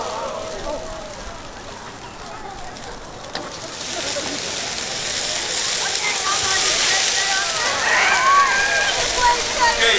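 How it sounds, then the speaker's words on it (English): Water dumped onto burning grease heated to about 350 in a kitchen fire bursts into a roaring, hissing flare that grows louder and sloshes. People talk over it. "let's dump the water on and see if we can put it out"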